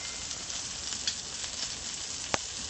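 Skirt steak sears in a hot pan with a steady, close, even sizzle and a few sharp crackling pops, with no talking.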